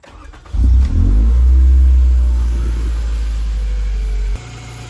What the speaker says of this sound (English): so we're gonna go ahead and start the car.